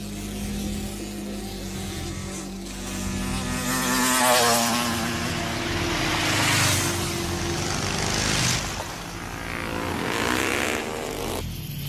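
Motorcycle engine sound effect from an action film, a roaring engine that swells and fades in repeated surges as it revs and passes, loud and close, with no speech.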